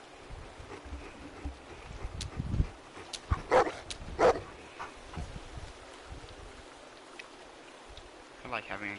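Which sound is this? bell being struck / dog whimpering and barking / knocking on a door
dog whimpering and barking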